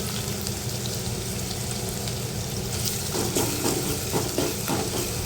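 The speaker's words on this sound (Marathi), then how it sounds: "तेलामध्ये आपल्याला हे आलं लसूण टोचून घेतलेलं आहे ते परतून घ्यायचं आहे" Ginger and garlic sautéing in oil beside onion in a pan for soyabean pulao, making a continuous soft frying hiss with some crackling and stirring toward the end.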